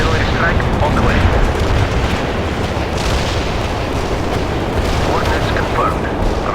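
An artillery barrage in the real-time strategy game World in Conflict, a dense, loud, continuous rumble of overlapping explosions and booms rolling on for several seconds, with radio-style voices talking over it.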